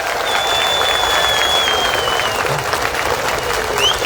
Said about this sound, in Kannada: ವೇದಿಕೆ ಮೇಲೆ ಇರ್ತಕ್ಕಂಥ ಎಲ್ಲಾ ಮುಖಂಡರನ್ನ ಜೋರಾದ ಚಪ್ಪಾಳೆ ಮೂಲಕ ಒಂದು ಸ್ವಾಗತ ಮಾಡ್ತಾರೆ